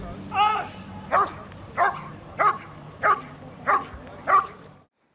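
A dog barks in a sharp regular series of seven evenly spaced barks at a canine competition on a club field, close and prominent, with a faint background hum and no talk over it.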